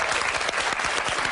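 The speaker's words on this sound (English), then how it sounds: "Ladies and gentlemen, a huge applause for Sue and Lizzie, please." A studio audience claps continuously, a dense, even burst of applause filling the room without any voice over it.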